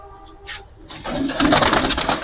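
A female Giribaz flying pigeon coos in a loft among cages, the soft call nearby and partly buried under rising broadband shuffling and handling noise.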